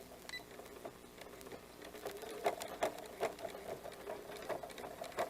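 Sewing machine stitching a fabric water bottle cozy, a rapid rhythmic mechanical patter moving forward and back in bursts, close and clear with no talk.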